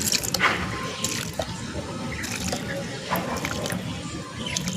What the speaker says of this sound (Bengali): তো এটাকে ভালো করে একটু জল দিয়ে দিলাম।